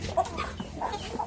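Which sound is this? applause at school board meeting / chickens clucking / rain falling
chickens clucking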